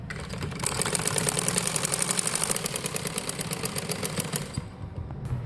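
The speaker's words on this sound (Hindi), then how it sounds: "अब हम इसको सिलाई लगा रहे हैं।" A sewing machine stitching fabric for an umbrella frock runs steadily with a fast, even mechanical rattle, then slows and stops near the end.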